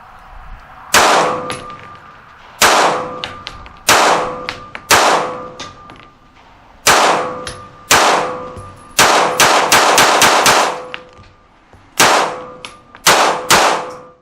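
Sharp gunshots from a custom Ruger RXM pistol with an Icarus Precision frame, Marconi Armory upper and integrally compensated, ported barrel, fired in spaced strings of single shots and quick bursts with ringing metallic tails, loud and close.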